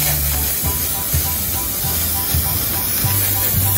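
An aerosol spray paint can hisses in short repeated bursts near the microphone, a broad airy spray over a steady background with a faint low hum.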